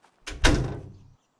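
Barn door on a farm swinging or sliding open with a single heavy thunk followed by a short rumbling scrape that fades out, close and alone.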